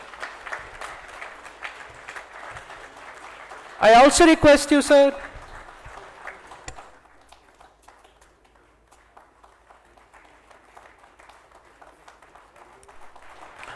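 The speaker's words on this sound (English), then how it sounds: "A huge round of applause for Shri Anil Gupta sir." A short, dense burst of audience clapping at a corporate conference, loud for about a second, rising after a presenter's introduction and fading back under continued speech from the host.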